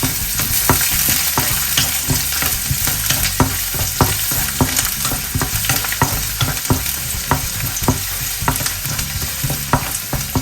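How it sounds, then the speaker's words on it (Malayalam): Chopped ginger and garlic fry in hot oil as they are stirred, giving a loud, steady, crackling sizzle with no voices. "എണ്ണയിലേക്ക് നമുക്ക് നമ്മൾ അരിഞ്ഞു വെച്ചിരുന്ന ഇഞ്ചിയും വെളുത്തുള്ളിയും ഇടാം. ഇത് പയ്യൊന്ന് വരട്ടിയെടുക്കാം."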